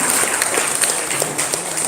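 Crowd applause at a book discussion event at a heritage site in Kediri, a brief, steady wash of clapping that sounds somewhat distant and diffuse.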